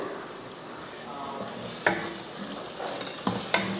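Spoon scrapes and stirs through a biryani masala mixture with yogurt and lemon juice in a pan for kushka, giving several distinct scraping strokes over a soft background sizzle, close and moderately loud.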